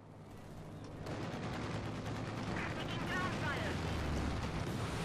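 Dull, rumbling blasts and crackling fire from an IL-2 air strike in a World War II strategy game, a thick continuous barrage that swells after the first second, with a voice talking over it.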